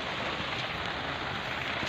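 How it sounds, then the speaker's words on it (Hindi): Rain falls steadily during a sudden windstorm, a constant dense hiss with a low windy rumble and no distinct pauses. "आंधी तूफान आ गया अचानक और बारिश भी हो रहा है"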